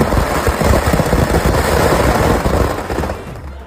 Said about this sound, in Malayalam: ഒരു പടക്കം പൊട്ടലുണ്ട്